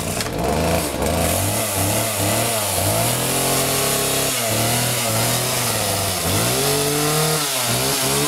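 A McCulloch 1838 chainsaw on half choke is started up, sputtering and revving loudly in repeated uneven bursts close by, engine pitch rising and falling with no talking.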